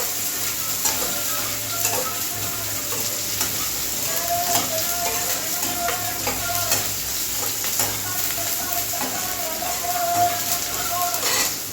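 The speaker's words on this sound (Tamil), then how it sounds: "அந்த வெங்காயம் போட்டு வணக்கும் போதே இந்த 2 பல் பூண்டு இருக்கு இல்லைங்களா, இதையும் அதில் சேர்த்து போட்டுருங்க." Chopped onion and two garlic cloves sautéing in hot oil in a pan for a tomato gravy, a loud continuous crackling sizzle with occasional stirring scrapes, close up and steady throughout.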